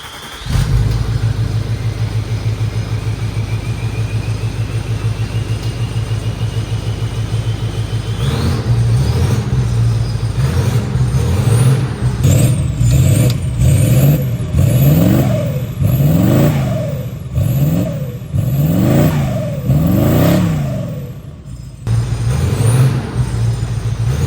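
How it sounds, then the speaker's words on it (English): A Range Rover L322 running with its exhaust removed idles with a loud, raw drone, then revs up and down repeatedly in a run of rising and falling bursts, close and unmuffled, with no talk. "here's what she sounds like with no exhaust."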